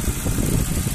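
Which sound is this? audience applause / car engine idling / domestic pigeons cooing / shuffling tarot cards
car engine idling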